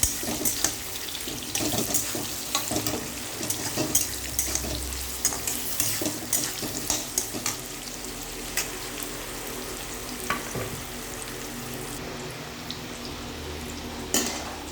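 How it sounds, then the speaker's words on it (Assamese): Pieces of ripe jackfruit core sizzle and crackle in hot oil, a steady frying hiss with intermittent stirring scrapes and clinks, close and fairly loud with no voices. "এতিয়া কঁঠালৰ এই ডিলাৰ কাটিংখিনি মই দি দিলোঁ তেলত।"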